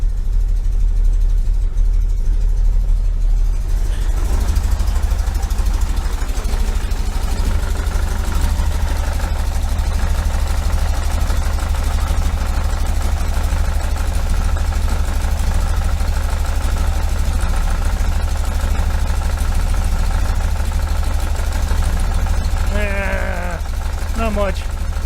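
A 1973 VW Super Beetle engine fitted with Dellorto FRD 34 carburetors and a balance tube idles just under 800 rpm, a loud, steady, low rumble that runs the whole time beneath a voice.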